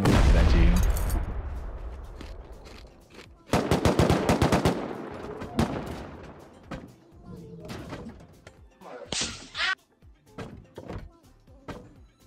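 Shotgun traps firing in a modded survival video game: a heavy burst of rapid, loud blasts and thuds, followed by scattered single shots and a short hiss, with voices talking at times.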